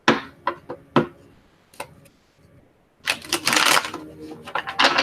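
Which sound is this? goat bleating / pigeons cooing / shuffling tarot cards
shuffling tarot cards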